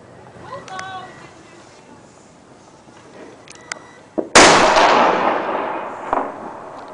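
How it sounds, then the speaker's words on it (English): M80 firecrackers set off around Christmas in Jinzhou, China: a single loud, close blast with a long rolling echo and crackle, preceded by softer distant pops and a few brief voices. "they got some big ass freaking firecrackers around here. I think they're like M80s"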